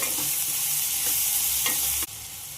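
Spices with salt and turmeric powder are stirred into a sizzling pan of raw mango rice masala. A constant loud frying hiss runs under repeated scraping stirs at close range.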